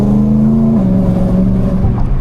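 A 450 bhp E92 BMW M3 engine revs hard to nearly 8,000 RPM, holding a loud, steady scream close by, then dropping slightly as it eases off.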